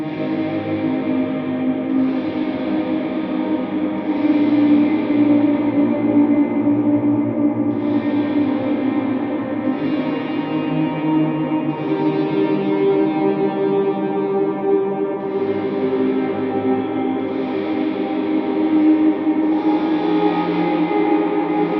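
Electric guitar plays the Christmas carol Away in a Manger through a chain of effects, sustained, steady and loud with a washy, echoing, distorted tone throughout and no talking over it.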